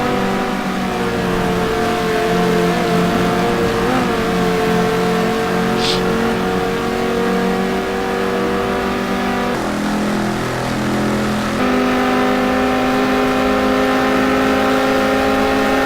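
Porsche and Viper race cars in Gran Turismo 2 qualifying at Spa hold a steady, loud engine drone with sustained harmonic tones that shift pitch around gear changes, running continuously under faint commentary.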